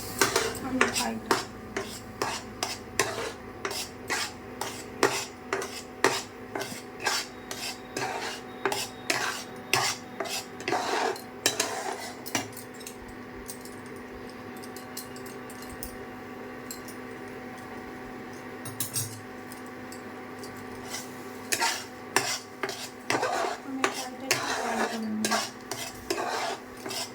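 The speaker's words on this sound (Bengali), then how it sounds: "তাই এটা চিনি দিয়ে মিষ্টি করে নিয়ে একটু কাইটা নেড়ে নেবো, আমের কাইটা" A spoon stirs ripe mango pulp and sugar in a bowl for sweet-sour yogurt, producing a long run of rhythmic clinks and scrapes against the bowl, close and fairly steady, with a brief quieter stretch midway.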